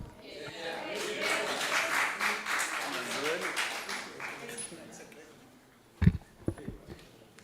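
Brief, thin applause from a small parliamentary audience in a budget-vote plenary, a few scattered claps rising late and fading, following a stretch of steady speech.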